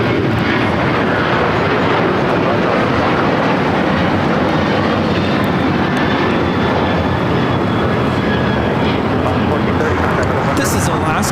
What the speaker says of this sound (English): This is Alaska Airlines 1430 taking off to Los Cabos on the 737-900ER.